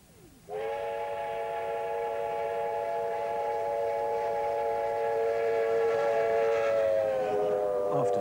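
A steam locomotive's whistle sounds in one long, loud, sustained blast lasting several seconds over a low mechanical rumble, on a steam special between Ballarat and Maryborough, Australia.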